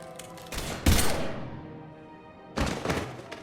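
Gunfire bursts from the video game Mass Effect 3 on Omega: a sharp loud volley near the start, a lingering decay, then a second burst of shots near the end, with no talk over it.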